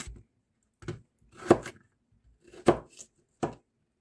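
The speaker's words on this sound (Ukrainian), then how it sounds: "Далі ми беремо картоплю і ріжемо на дольки." A kitchen knife cuts potatoes into wedges on a board, a handful of sharp, separate chops spaced about a second apart, close and clear with quiet gaps between them and no talking.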